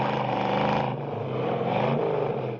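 Ford Mustang engine revving hard in the Bullitt car chase, a loud close throaty roar with a brief dip and surge in pitch, no talking.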